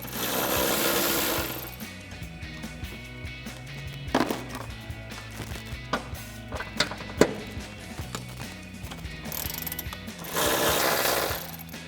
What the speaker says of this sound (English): we'll take our 12mm socket again to take these out